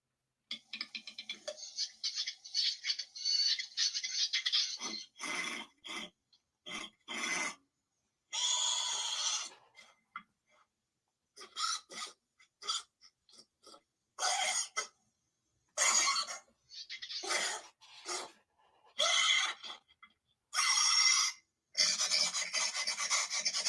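Short raspy bursts and sniff-like rasps of a played Utahraptor dinosaur vocalization come in irregular clusters separated by silences, fairly close and isolated with no talking.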